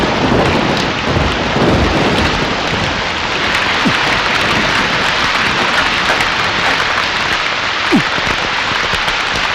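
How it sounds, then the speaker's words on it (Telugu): Heavy rain pours in a dense, loud, steady roar as a storm sound effect in a Telugu film scene, with a couple of brief thunder cracks cutting through. "వర్షం వచ్చేటట్టుంది"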